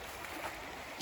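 Creek water flows beside a hiking trail on the Appalachian Trail, a soft continuous rushing wash that stays quiet and steady for about a second with no talking.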